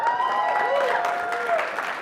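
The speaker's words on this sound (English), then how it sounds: "Give yourselves a round of applause." Audience applause at a 2014 leadership conference keynote, a steady wash of clapping from a crowd filling the room, with a voice talking over it.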